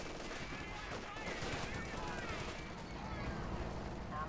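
Machine gun fire and battle noise in the World War II strategy game Company of Heroes 2, a steady dense rattle of distant gunfire under a constant roar, fairly faint in the mix.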